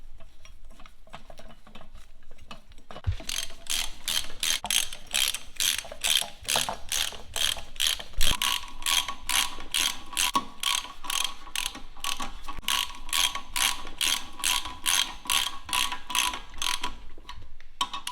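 Rapid ratchet clicking as bolts are tightened on the rear brake of a VW Golf MK2 during a GTI rear brake upgrade, a close, steady run of sharp clicks lasting about fifteen seconds with a brief pause midway.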